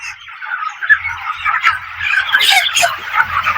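A dense, continuous chorus of many chickens chattering and clucking together inside a poultry farm, fairly loud and steady, with a faint low hum underneath.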